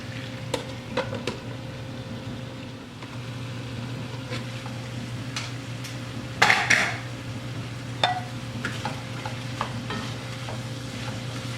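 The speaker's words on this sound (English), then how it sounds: "You want to stir this around." A spoon stirs onion and potato soup in a cooking pot over a constant low hum, with scattered scrapes and clinks and one brief louder clatter of utensil against the pot.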